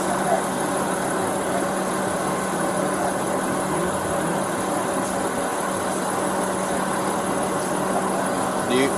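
A car engine idles steadily throughout, a constant low hum and vibration at a roadside stop, with faint talk in the background.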